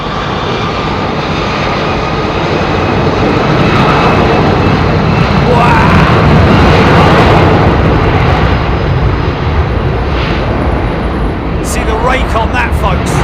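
A jet airliner with CF6 engines at London Heathrow Airport roars loudly and continuously, a dense, close engine rumble that swells through the middle before easing, with people talking nearby.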